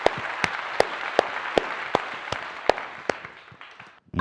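A studio audience claps in a brief burst, with many regular, sharp individual claps standing out over a dense wash of applause that fades toward the end.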